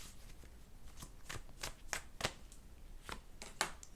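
Tarot cards are shuffled and drawn by hand in a quiet room, giving a string of soft, crisp riffling snaps and flicks at an irregular rhythm, close and fairly faint.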